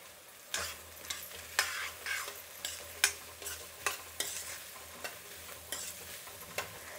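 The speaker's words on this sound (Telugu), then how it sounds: "ఇప్పుడు ఈ కూరగాయలు అన్నీ వేసుకుందామండి. కూరగాయలు కొంచెం బాగా వేగితే మెత్తగా ఉడుకుతుందండి, కాబట్టి ముందే వేయించుకునేయాలి." Vegetables for khara bath fry in a pan while being stirred, a steady sizzle punctuated by regular scraping strokes of a spoon roughly every half second, close and alone without speech.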